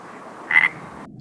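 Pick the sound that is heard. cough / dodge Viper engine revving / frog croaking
frog croaking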